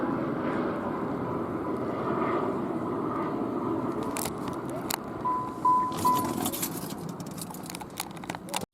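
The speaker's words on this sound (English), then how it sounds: "you can see he passed directly overhead, and you can see that as a black and white Los Angeles Police Department helicopter" A black-and-white Los Angeles Police Department helicopter passes overhead, a steady droning rotor wash that fills the air throughout, with a few sharp clicks and rustles close by near the end.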